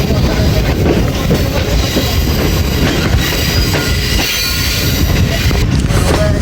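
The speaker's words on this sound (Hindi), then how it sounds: "गोल्डा शरीफ जंक्शन अप्रोच बना रही है 14 डाउन अवाम एक्सप्रेस।" The 14 Down Awam Express train approaches Golra Sharif Junction with a steady, loud rumble of rolling wagons and squealing wheels on the rails, running without a break and with no talk.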